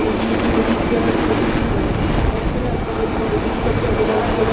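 A Puma military helicopter arrives during an air show demonstration. A continuous, loud, broadband rotor and engine roar holds steady throughout with no break.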